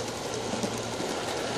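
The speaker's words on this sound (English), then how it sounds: "Today it's pulling a freight train." An outdoor garden railway with a Bumblebee C-19 model locomotive pulling a small freight train, giving a steady, fairly quiet rolling rumble and rattle of wheels on track.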